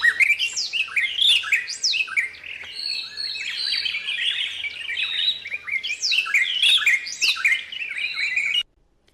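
Birds in Marsabit National Park chirp and whistle in overlapping bursts for several seconds, clear and fairly close with no one talking, then the calls stop abruptly.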